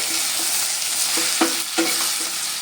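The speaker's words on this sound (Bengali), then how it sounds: "খুব ভালো করে এই তেলের মধ্যে আবার ভেজে নেব পেঁয়াজ রসুনের সঙ্গে।" Taro pieces fry in hot oil with onion and garlic, giving a steady close sizzle broken by a few soft scrapes of stirring; no one speaks.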